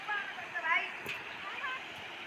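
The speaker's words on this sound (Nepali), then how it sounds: "तपाईँ आज खोला देखाइदिन्छु" A river stream rushes and splashes steadily nearby, a constant bright hiss of flowing water with faint murmurs in the background.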